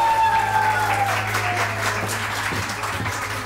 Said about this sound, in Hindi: तालियां और शोर होना चाहिए